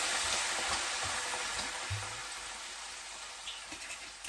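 Garlic, chilli and onion sweat in a hot pan, a steady, even sizzle that fades slightly toward the end, with a few faint soft knocks.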